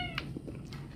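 A hungry cat gives a short, faint meow against a low background hum, with a few soft indistinct sounds following it.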